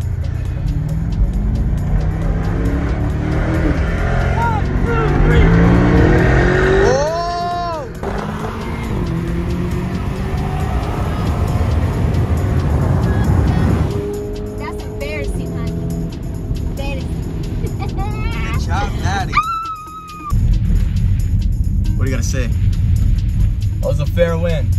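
A Lamborghini Urus and a rival car roll-race from about 30 mph, with loud engine roars and rising revs as they accelerate, a sharp gear-change drop midway, and excited voices talking over the noise.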